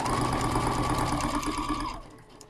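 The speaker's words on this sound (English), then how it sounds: "So let's sew down there." A sewing machine stitches fabric for quarter square triangles, a loud, fast mechanical whirring close by that runs steadily for about two seconds before winding down.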